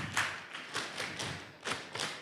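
Audience members stamping their feet in rhythm, a series of roughly six dull thuds about every third of a second, mixed with clapping, at a lively group motivational event.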